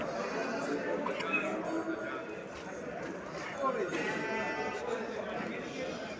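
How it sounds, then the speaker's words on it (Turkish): Goats and young kids bleat repeatedly at a moderate distance over a murmur of people talking and general outdoor commotion at the Çubuk livestock market in Turkey. "Bu oğlaklarıyla keçiler geldi arkadaşlar."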